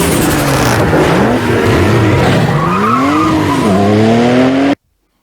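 A loud, close car sound effect in which the engine revs and whines while the tires skid and squeal continuously, and then it stops abruptly, with no voices.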